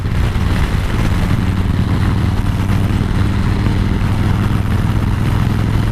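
Engine of a 2000 Harley-Davidson Fat Boy motorcycle running steadily, with a continuous low throbbing rumble that is loud and close throughout, heard on its own without speech.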